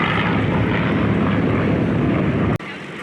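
Warbird aircraft roaring loudly overhead during an air show multi-point aerobatic roll, a dense continuous engine rush that cuts off abruptly near the end.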